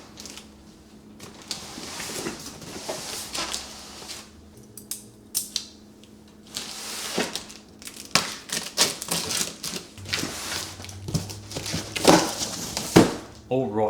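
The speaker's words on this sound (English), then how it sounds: "Let's rip this bad boy open and see what's inside." The box of a Valley Sportsman #32 commercial-grade electric meat grinder is torn open, with bursts of rustling, tearing cardboard and tapping that grow louder toward the end, and someone speaks briefly.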